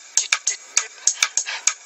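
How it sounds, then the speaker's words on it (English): A short, crisp hi-hat pattern of about ten quick, bright ticks in an uneven rhythm, close and fairly quiet. "I can even make a little hi-hat."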